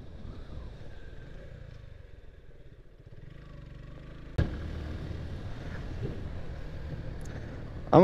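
A small Suzuki Gixxer motorcycle rides along a village road, its engine a low, quiet drone that steps up noticeably louder partway through, with no talking.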